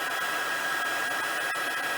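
An electric heat tool blows steadily at close range while heat-embossing a stacked-stone pattern across a card front, giving a constant whooshing, whining rush of air with a high tone.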